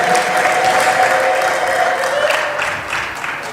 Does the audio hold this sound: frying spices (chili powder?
no